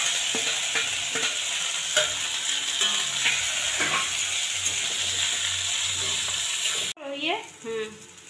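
Cloves and whole cumin seeds sizzle and crackle in hot oil in a home kitchen pan, with steady frying and stirring sounds throughout. A sharp clatter comes near the end, followed by a short burst of other noise.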